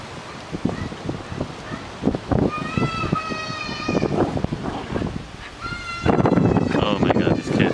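Children shout and yell outside an apartment building, their high excited voices rising in bursts over wind noise, loudest near the end, with adult speech and handling noise mixed in.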